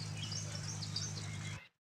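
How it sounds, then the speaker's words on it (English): Songbirds chirp and twitter in the Pine Valley area of Gold Rush, a soft scattering of high calls above a constant low drone that cuts off abruptly near the end. "Oh, listen to the birds here."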